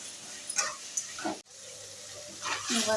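Tamarind water is poured into a pan in a few splashy bursts, with a brief clink partway through, close up and moderately loud.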